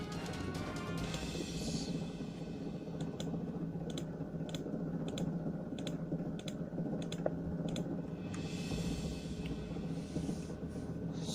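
Mouse clicks in Excel 2016 come as sharp, evenly spaced ticks at moderate level over a steady background hum, with no talking.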